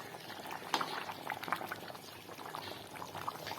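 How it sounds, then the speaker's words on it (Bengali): Mutton kosha curry being stirred in a pot, with a thick bubbling, simmering sound and soft wet stirring close by, steady throughout and without talk. "মাংসটা ভালো করে নেড়ে চেড়ে নেব আর একটু।"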